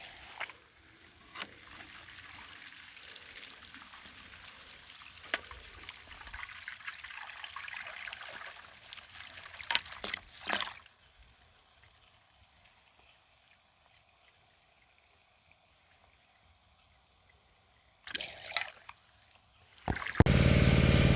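Water flushing through a soaked, clogged catalytic converter from a 2006 Kia Sorento, a steady hissing spray and trickle that stops midway, then resumes briefly before a loud burst at the end.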